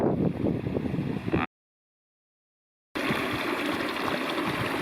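Yosemite Creek rushing over rocks in the wilderness, a continuous close splashing flow that cuts out abruptly into silence for about a second and a half, then resumes just as full.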